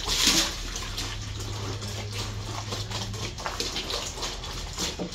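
Water sloshing and splashing as clothes are washed by hand in the morning in Usulután, El Salvador, with irregular close splashes and running water over a steady background.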